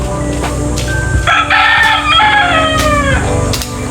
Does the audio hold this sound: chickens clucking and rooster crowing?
yes